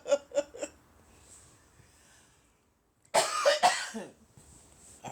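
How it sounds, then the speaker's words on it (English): A woman coughs in short bursts: a quick series of three coughs, a pause, then a louder, harsher cluster of two or three coughs close to the microphone in a quiet room. "I cough when I've been talking too long."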